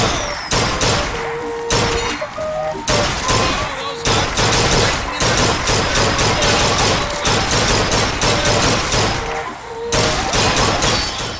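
Rapid rifle gunfire in the video game BioShock Infinite, loud bursts of shots with booming thuds and short gaps between volleys.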